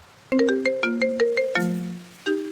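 A mobile phone ringtone plays a bright, repeating electronic melody, starting suddenly and continuing loud and close for a couple of seconds with no talk over it.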